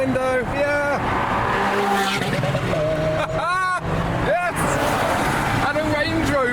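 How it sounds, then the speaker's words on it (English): A Lamborghini Huracan and an Aventador accelerate past at a car meet with loud, rising and falling engine howls and gear-shift sweeps, close and overlapping, over constant crowd noise and shouting. "Next up we have a Lamborghini Huracan and a Lamborghini Aventador. They're going to fly past."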